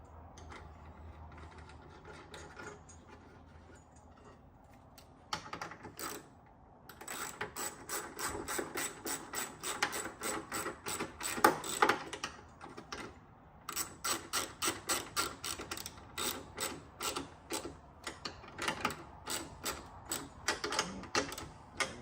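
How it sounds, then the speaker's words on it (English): Ratchet clicking in rapid bursts while tightening nuts on a 2020-up Corvette C8 engine bay panel cover, close and crisp, with brief pauses between runs of pawl clicks. "And you can tighten your nuts up here."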